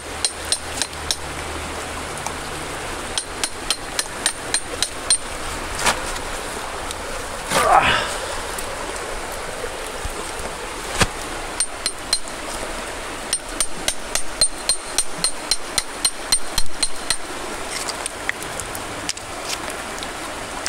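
A hammer strikes a concretion rock repeatedly in quick, sharp taps to split it, the blows clustering in rapid bursts against steady outdoor background noise, with a short vocal sound partway through.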